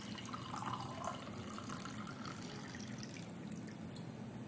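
Liquid poured from a mug into another container, a steady continuous splashing stream heard up close with no talking.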